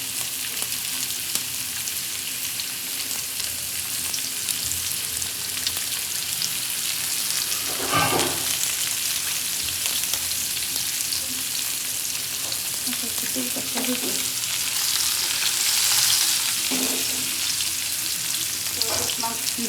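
Fish fries steadily in a pan, giving a continuous loud sizzle with occasional stirring scrapes, no voices.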